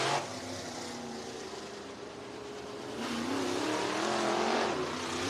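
Race cars rolling onto a dirt speedway track for a heat race at Cottage Grove Speedway, a steady engine drone that swells louder partway through, heard at a distance with no talk.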